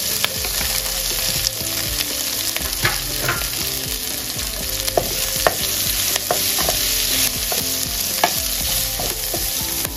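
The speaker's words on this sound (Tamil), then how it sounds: "இப்போ இதில் இந்த உருளைக்கிழங்கை போடுறேன்" Potato pieces fry in a pan, giving a steady, dense sizzle that is close and loud, while repeated scraping clicks mark the stirring throughout.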